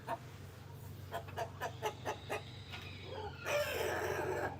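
Chocolate Orpington chickens in a coop cluck in a run of short, evenly spaced calls at moderate distance, followed by a louder burst of squawking toward the end.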